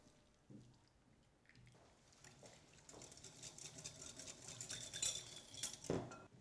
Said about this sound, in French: Mélangez la moutarde avec la réduction d'orange.